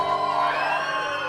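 A packed concert crowd at a farewell show whoops and cheers in one loud, sustained roar of overlapping high voices, with no break.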